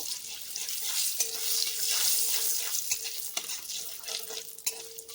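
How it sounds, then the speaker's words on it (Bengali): Red chili powder frying in oil for a mixed-vegetable dal, stirred with a spoon: a soft steady sizzle with repeated scraping strokes and light clinks, fairly quiet and close, no talking. "তেলের সঙ্গে একটু নেড়ে চেড়ে নেব।"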